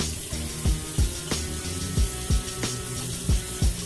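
Cold tap water runs steadily from a third-floor apartment faucet while a shaving bowl is rinsed, a continuous splashing hiss with regular soft knocks or thuds recurring about every third of a second, close and fairly loud.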